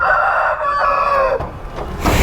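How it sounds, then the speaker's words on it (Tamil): A rooster crows once, loud and close, the drawn-out call trailing off into clucking from chickens being loaded at a train station in Tamil Nadu, with no talking. "கோழி"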